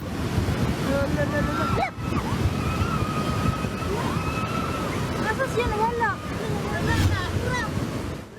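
Floodwater from the swollen Calinan River rushes past in a continuous, broad roar. A person speaks over the churning water for most of the stretch.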